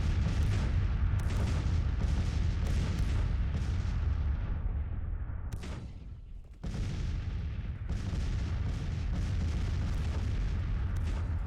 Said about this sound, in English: That's a lot of cannons being fired.